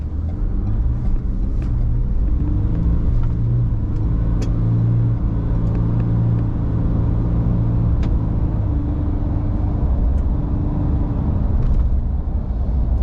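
A 2023 Ford Ranger Wildtrak V6 pickup truck engine revs and accelerates steadily, a loud continuous rumble with rising drone, close by and with no voices.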